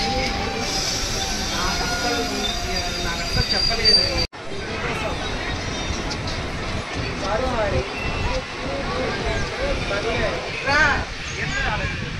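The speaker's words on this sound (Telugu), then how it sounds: "ఫ్రంట్ ట్రైన్ జమ్మలమడుగు స్టేషన్ నుంచి అయితే డిపార్ట్స్ అవుతుంది" A passenger train departs Jammalamadugu station on the Nandyal–Yerraguntla line, with steady rumbling and clattering wheels beneath the babble of passengers talking inside the carriage.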